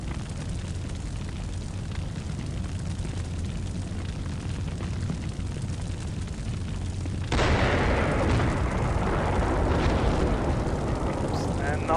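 Explosions from firing on BMP armored vehicles in a combat video game, a constant heavy rumble of battle that surges into a louder, denser roar of blasts partway through, with voices talking over it.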